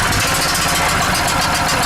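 A small gasoline engine, started by pull cord with the choke on, runs loud and close in a steady buzzing idle with a slightly uneven knock throughout the brief stretch.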